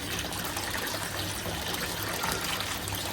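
Water pours steadily into a kitchen sink during cleaning, a continuous close trickling and splashing stream that holds at an even level throughout with no voices.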